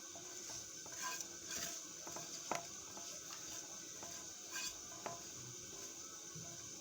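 Egg, flour, chopped greens and onion batter stirred in a bowl for Egyptian omelette, soft wet scraping and sloshing with occasional clinks of the utensil against the side, close and steady throughout.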